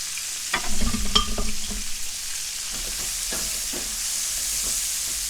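Jalapeño gravy with pork chops cooking down in a pan gives off a steady close sizzle and hiss, with louder stirring clatter and scraping over the first two seconds before it settles to an even simmering fry.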